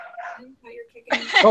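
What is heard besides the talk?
dog barking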